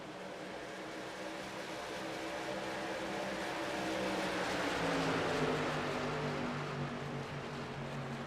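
Engines of race trucks at Darlington Speedway in the iRacing game make a continuous motor roar that swells and rises in pitch toward the middle, then settles, with no commentary over it.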